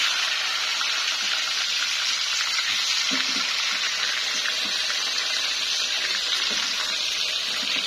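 Peeled eggplant slices fry in hot oil in a pan, giving a loud, steady sizzle that stays close and continuous throughout, with a few soft knocks of stirring underneath.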